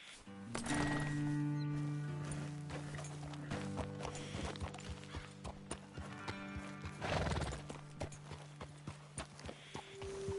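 Horses in Red Dead Redemption 2 whinny loudly near the start and again midway while hooves clip-clop steadily throughout, with a sharp snort-like burst around the middle.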